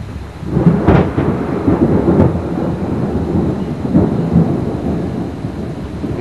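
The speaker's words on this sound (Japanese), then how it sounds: "雷は相変わらずまだ収まりません。" Thunder rumbles through a heavy thunderstorm with rain, a continuous loud low roll with a few sharper cracks standing out, and no voices.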